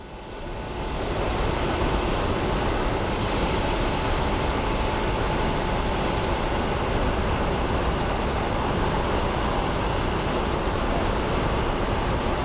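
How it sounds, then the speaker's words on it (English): Small Embraer jet, likely a Delta regional flight from LAX, roaring steadily at an airport, the broadband engine rush swelling in over the first second and then holding loud and unbroken throughout. "And here we have a little Embraer."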